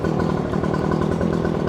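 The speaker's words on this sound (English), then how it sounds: "I really like the sound of the traditional two-stroke engine" A traditional two-stroke leaf blower engine, a Redmax or Stihl backpack model, runs steadily after a single pull start, with a loud, close, even buzzing drone and no talk.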